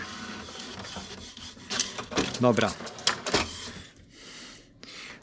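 An HP Deskjet F2180 inkjet printer, about 15 years old with refilled cartridges, whirs and clatters through a short mechanical run, with rhythmic carriage movements and clicks, followed by quieter motor noise. A person speaks briefly.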